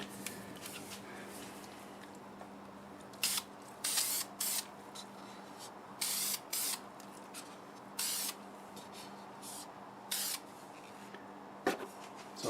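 Short bursts of spray, likely lacquer sprayed onto the back of a wood-turned piece in a workshop, hiss out in a series of separate blasts over a steady low hum, with brief pauses between them and no talking.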